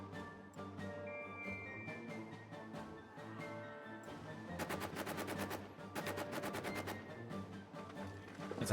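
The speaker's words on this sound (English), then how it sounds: "They're shooting at us with all their guns." Sustained machine-gun fire rattles across a World War I trench battlefield in All Quiet in the Trenches, with steady rapid bursts that thicken into dense, loud volleys in the second half.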